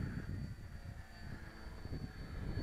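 A model aircraft, a Da Vinci Flyer fitted with a small wing and called the Da Vinci Racer, makes a full-throttle pass over a field, its steady high engine whine droning on throughout, with no voices.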